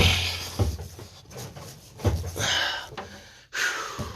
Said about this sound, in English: Apologies for the grunting and the heavy breathing.